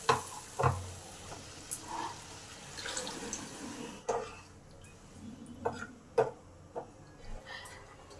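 Water hits spices fried in a pan for a potol and masoor dal dish, giving a soft sizzle with intermittent stirring taps and clicks at close range, no voices.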